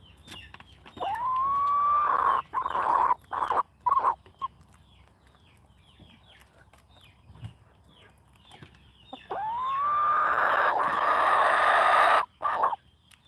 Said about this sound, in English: All your dad's chickens are really nice.